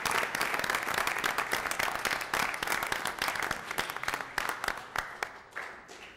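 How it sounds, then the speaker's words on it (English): Applause at a city council meeting for poster contest winners, a small room's worth of sharp, distinct hand claps, steady at first and thinning to scattered individual claps as it dies away. "let's have one last round of applause for Character Counts and for the strong poster contest winner"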